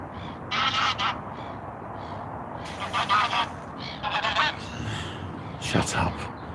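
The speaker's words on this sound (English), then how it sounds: "I'm not too keen on geese noises" Geese honking repeatedly at a fishing spot, with several loud, harsh calls in irregular bursts over a quiet background of outdoor noise.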